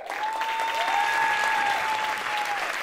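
A studio audience applauds steadily and fairly close as a guest is welcomed onto the stage, with a host's voice calling out over the clapping.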